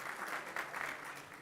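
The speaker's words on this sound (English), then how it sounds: "Anyone that takes this job deserves a round of applause." An audience at a county commissioners board meeting claps, a soft, steady patter of hands from a modest group, faint and somewhat distant, continuing evenly throughout.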